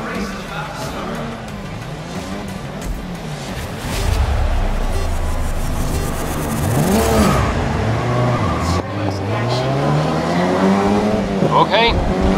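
Race cars in GRID 2019 roar at the start of a race, engines revving and shifting loudly with rising and falling pitch, a brief tire squeal near the end, under a commentator's voice.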